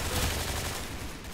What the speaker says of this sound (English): There was two guys shooting at me.